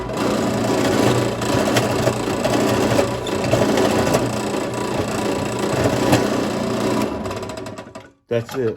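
A machine mills a 28 gauge TPS shotgun wad, giving a loud, steady whirring and grinding that runs almost the whole time before it cuts out near the end, with a brief spoken phrase close to the finish.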